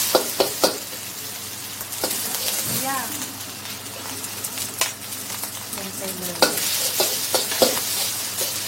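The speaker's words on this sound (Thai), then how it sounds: "อันนี้ก็ต้องผัดหมูย่างให้มันอน่อยนึงนะ" Grilled pork stir-fried with garlic in a pan, with sizzling and scraping stirs throughout, broken by sharp clicks of a utensil on the pan and bird calls in the background, while someone talks nearby.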